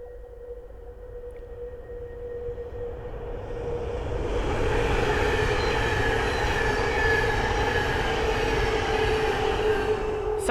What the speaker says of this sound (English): the next train to pass by is a Thameslink 700 from Rainham to Luton